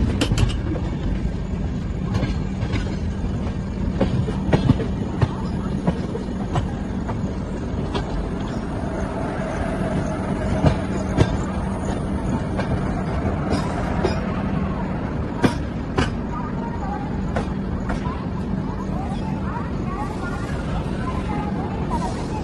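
A train from Visakhapatnam pulls into Khurda Road station, its rolling rumble and rail clicks continuing steadily, with a few sharper knocks and a voice talking over it.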